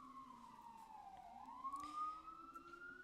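A passing ambulance siren wails outside, its pitch sweeping down then climbing steadily, heard at a moderate distance with traffic rumble beneath and no talking.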